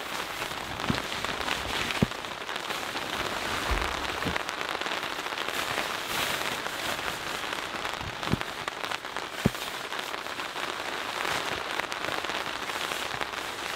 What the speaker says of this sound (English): Inside of the tent, it's currently raining.